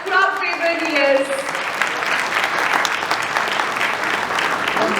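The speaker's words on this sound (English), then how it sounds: "Ladies and gentlemen, put your hands together for the amazing Rana." An audience at an inclusivity celebration hosted by Future Generali India breaks into loud, sustained applause for Rana, the clapping swelling and holding steady after a brief musical flourish at the start.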